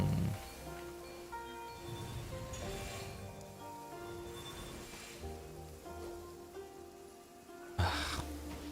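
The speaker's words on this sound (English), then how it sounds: "Taking a stroll in the middle of a downpour certainly rouses the spirit." Steady hiss of a rain downpour in the Genshin Impact video game, a continuous wash of falling rain under game music and effects, with a brief louder splash near the end.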